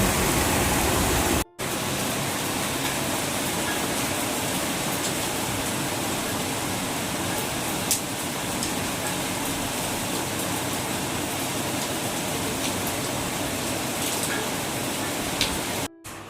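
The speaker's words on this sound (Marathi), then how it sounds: "हे बघा किती डेंजर पाऊस येत आहे" Very heavy monsoon rain pours down in a dense, unbroken roar for the whole stretch, close and loud, with one brief cut near the start.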